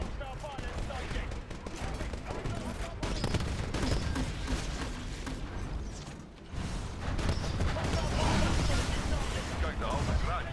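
Titanfall video game combat fills the scene with dense rapid gunfire bursts and mechanical clatter, loud and continuous, with voices speaking over the action.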